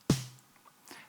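A raw, unprocessed snare drum struck once, a close sharp crack with a short tonal ring, followed by faint softer noises.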